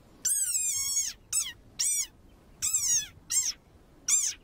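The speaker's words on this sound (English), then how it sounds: "Like this desert rain frog. Squeaking viral sensation." Desert rain frog squeaking in a series of six shrill, harmonic-rich calls, each about a quarter to two-thirds of a second long with brief gaps between them, loud and close against a quiet background, alone with no talk.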